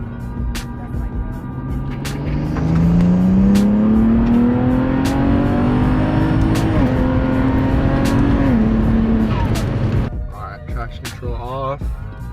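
A BMW E9x running an ethanol fuel mix revs hard from about 3,000 to 6,000 RPM, its loud, close engine note climbing steadily for several seconds before the throttle drops off abruptly and the engine settles.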